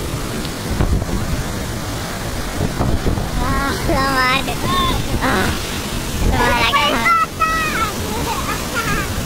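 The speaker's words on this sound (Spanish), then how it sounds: "La cascada." A waterfall roars as a steady, loud rush of falling water, and several people talk and exclaim over it.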